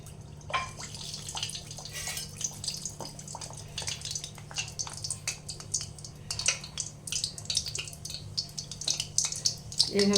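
Crispy khasta kachori made with sattu frying in hot oil while oil is splashed over it, a continuous crackling sizzle with scattered pops and spatters, close and moderately loud.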